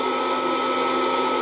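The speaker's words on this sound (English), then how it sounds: "then should be ready to turn on the blower" A Presto PopLite hot-air popcorn popper, modified for roasting coffee beans, blows with a steady, loud, continuous whoosh that holds unchanged throughout, with no voices over it.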